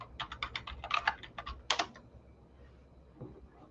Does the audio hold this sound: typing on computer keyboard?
yes